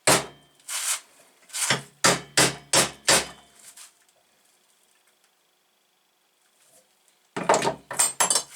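A pit bike brake pedal being bent with a hammer: sharp metallic blows, first a few spaced, then a quick run of five, a pause of near silence, then another rapid cluster of strikes.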